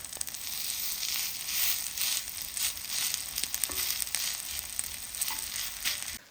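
Shrimp and zucchini pancake batter sizzles in oiled cast iron, a steady close frying hiss with small crackles and pops throughout.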